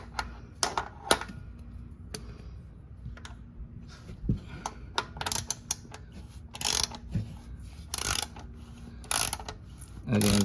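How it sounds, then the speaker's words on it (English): A new plastic oil filter is tightened on a Toyota Highlander, producing irregular bursts of sharp ratcheting clicks and mechanical rattles separated by quiet pauses. "I put the new filter on, put that clockwise, and let me tighten it now."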